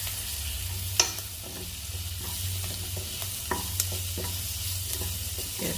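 Prawns sizzle steadily in a hot pan while a spoon stirs them, with a few sharp scrapes and clinks against the metal over a continuous frying hiss.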